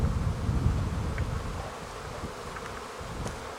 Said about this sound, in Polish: Widzę, że żyją. Ruch spory. Wszystkie ule latają.